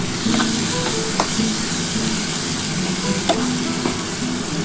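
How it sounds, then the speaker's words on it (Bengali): Grated radish frying with spice paste in a pan, a continuous sizzle under scraping stirs of a spatula, with a few sharper knocks against the pan. "এবার এটা কিন্তু মশলাটার সাথে ভালোভাবে কিন্তু কষাতে হবে।"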